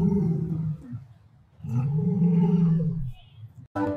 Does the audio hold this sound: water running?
no